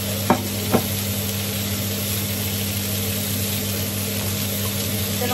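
Vegetables sizzle and fry in a pan in a steady, loud hiss, with a couple of sharp clinks from stirring near the start.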